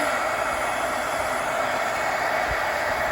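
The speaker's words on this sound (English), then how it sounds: "turn it on, wait for it to get warm, and then you just blow it in there" A warm-air blower heating and melting foam runs as a constant, close rushing whoosh of blowing air, steady and unbroken throughout.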